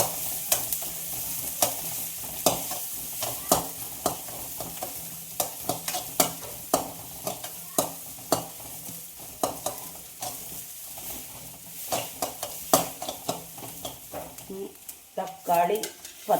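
Onions, including large onions, sautéing in a pan for a curry, with steady sizzle and repeated scraping stirs of a spoon, close and clear with no talking.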